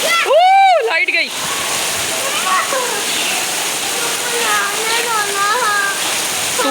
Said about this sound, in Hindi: तूफान वाली बारिश हुई है